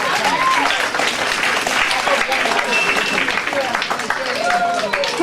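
Steady round of applause from an audience at a sports club's presentation night, filling the whole stretch at a loud, even level, with voices mixed in among the clapping.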